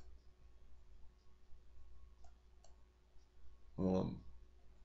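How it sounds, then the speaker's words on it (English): A computer mouse clicks while working in CorelDraw: one sharp, close click stands out near the end of a quiet stretch, with a couple of faint ticks before it. "So we're gonna click on it."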